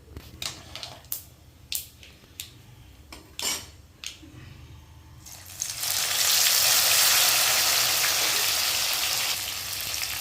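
Mustard seeds crackle in hot oil for citron pickle, starting with a series of sharp clinks of a utensil against a pan before a loud, steady sizzle rises and holds.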